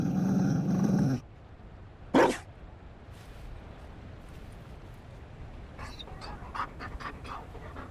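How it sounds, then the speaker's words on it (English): A Mabari war dog in Dragon Age Inquisition pants heavily and close for about a second. A single sharp bark-like burst follows, then a string of faint, scattered yips and growly snorts. "You found a dog?"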